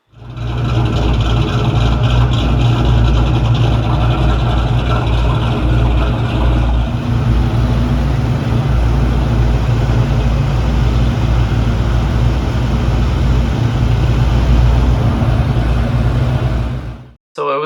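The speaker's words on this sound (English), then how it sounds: "that is the coolest sounding Mustang I've ever heard" A 2001 Ford Mustang Bullitt idles close by in a steady, deep rumble with a low, even throb that holds without change for about seventeen seconds, then cuts off abruptly.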